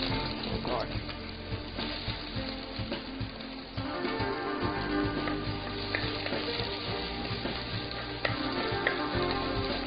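Red onion frying in hot coconut oil in a clay pot for Kerala fish curry, a steady close sizzle running throughout with occasional stirring clinks, no talk.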